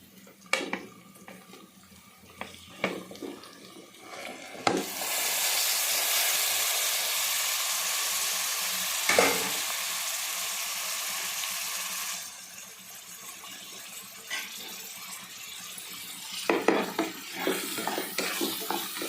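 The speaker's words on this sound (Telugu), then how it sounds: "ఇప్పుడు మనం మామిడికాయ ముక్కలు అలాగే చిక్కుడుకాయ ముక్కలు వేసేసుకుంటారు" Pieces of raw mango and broad beans go into a hot frying pan with onions for a mutton dish, setting off a loud, steady sizzle and hiss for several seconds, with a few scraping stirs before and after.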